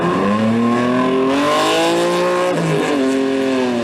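A Toyota 2000GT sports car's Yamaha-built engine revs loud and close, its pitch climbing and falling through sustained rising sweeps with no talking.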